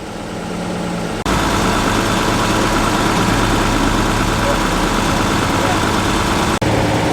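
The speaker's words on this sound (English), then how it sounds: "The mighty Unimog." A Unimog truck's diesel engine idles steadily at a car meet in Malpas, a loud continuous low rumble with a slight break near the end.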